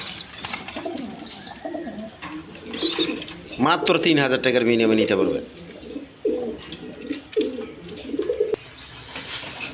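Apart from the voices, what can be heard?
pigeons cooing, Giant Runt pigeon pair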